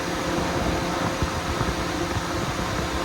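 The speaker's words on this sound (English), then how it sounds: "you'll hear the fan running" A Mitsubishi Lancer radiator cooling fan whirs continuously with the engine off, a broad even hum with airy hiss, close and constant with no talking.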